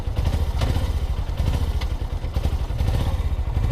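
A Suzuki GS500 motorcycle engine idles while warming up on a cold start, a close, steady rapid thumping beat with light mechanical clatter and no voices.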